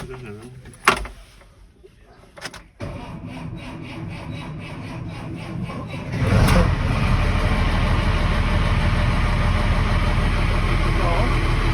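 A few clicks and clunks, then the six-cylinder turbo diesel engine of a Case 5140 tractor turns over and settles into a loud, steady idle nearby.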